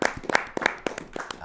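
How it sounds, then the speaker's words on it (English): A brief burst of clapping from a small group, sharp irregular claps fairly close by. "Round of applause for Theodore."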